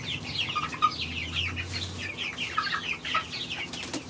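Chickens and a young rooster cluck in repeated bursts at close range, several birds overlapping with no voices over them.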